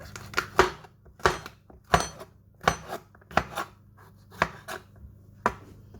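A knife chops garlic cloves into fairly big pieces on a board, a dozen or so sharp, uneven thuds in quick bursts with brief pauses, close and clear over a low steady background hum.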